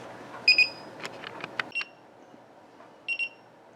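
A power supply tester plugged into a SATA connector gives short electronic beeps, a quick double beep, a few clicks, then another double beep, faint in a quiet room.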